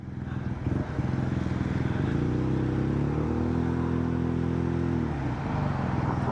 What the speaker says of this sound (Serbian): Jednostavno, lepo je čuti ovaj auspuh